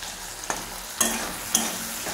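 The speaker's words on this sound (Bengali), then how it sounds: "দিয়ে এবার ভালোভাবে মশলাটাকে কষিয়ে নেব" A chili, turmeric and tomato masala sizzles quietly in a pan, with three distinct stirring scrapes spaced about half a second apart over the soft frying.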